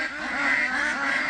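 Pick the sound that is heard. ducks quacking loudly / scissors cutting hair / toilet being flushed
ducks quacking loudly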